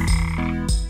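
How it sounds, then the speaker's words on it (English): A frog in a children's song croaks twice, loud, close and resonant, alone with no talk. "Where's the frog?"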